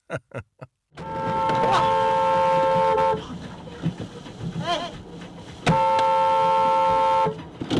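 Car horn honking on a road, two long sustained blasts of about two seconds each, loud and close, after a few short bursts, with road and traffic noise between them.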